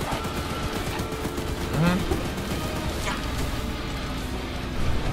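Rapid bursts of weapon fire from the Choo Choo Charles video game, dense and sustained across the whole clip with a loud swell near the middle, while a voice talks over it.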